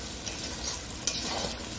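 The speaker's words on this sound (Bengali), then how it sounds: "সুন্দর করে লাল করে ভেজে নিতে হবে।" Spice paste fries in a pan for an egg cake curry, giving a dense, steady close sizzle with a brief spoon tap in the middle.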